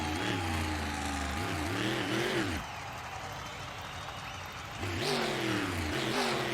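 A monster truck engine revs hard at a freestyle event, its roar rising and falling in long surges, then dropping to a lower rumble before climbing back up loud and close.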